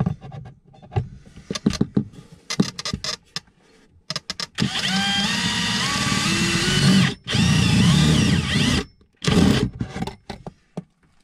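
A power drill runs in several bursts of a few seconds each inside a caravan during an Alde heating sensor installation. It is loud and close, with short stop-start pauses and brief clicks between runs.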